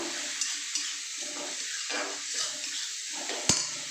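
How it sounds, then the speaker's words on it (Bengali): Warm water pours into a pan of simmering chickpea curry with a soft, steady rushing hiss and faint sizzle, alone and fairly quiet, with a small knock near the end. "আমি গরম জল করে রেখেছি অলরেডি একটু সামান্য গরম জল দিয়ে দিলাম"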